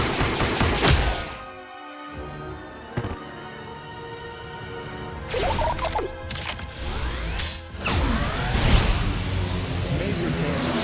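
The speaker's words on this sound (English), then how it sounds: "Laser cannon really is incredible here." Laser cannon gunfire from the video game Live A Live: dense mechanical bursts and whirring sweeps fill the stretch, with sharp rising electronic streaks and blasts layered loudly throughout.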